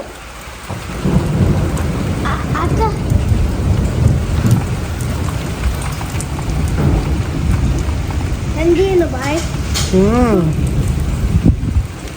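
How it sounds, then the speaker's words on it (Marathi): Steady heavy rain pours down outside with deep rolling thunder, a constant dense wash. People talk briefly over it. "पाऊस पडतो."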